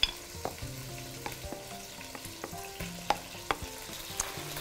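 Tomatoes frying in a pan for an oven-baked meat tray dish, a soft steady sizzle punctuated by light clicks and scrapes of stirring, close and quiet with no voices.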